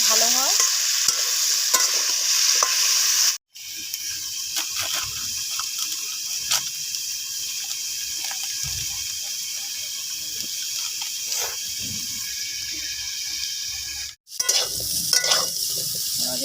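Potato and cauliflower sizzle steadily as they fry in oil, with stirring and scraping throughout and two brief cuts in the sound.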